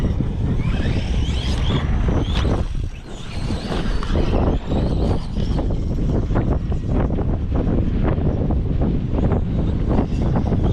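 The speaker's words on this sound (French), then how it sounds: "Ah, il y a le vent qui se lève" Strong wind roars and buffets the microphone without pause, with a steady low rumble beneath it, as if recorded from a moving vehicle.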